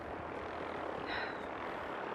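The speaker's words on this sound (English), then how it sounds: "Oh, there's a vertibird." Vertibird helicopter from Fallout 4 flying nearby, a steady broadband rotor and engine drone that holds evenly throughout with a faint whine briefly rising in the middle.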